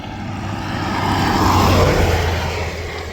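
An Abarth car drives along a road with steady broadband engine and road noise that swells toward the middle and eases off, no voices heard.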